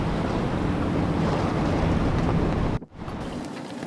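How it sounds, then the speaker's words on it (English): Strong 30 to 35 knot wind and waves buffeting a sailing boat at anchor in the shelter of Santa Marta, a loud, roaring rush of wind noise and water that drops out briefly near the end before returning, with no voices. "We still had 30 to 35 knots of wind even in the shelter of Santa Marta."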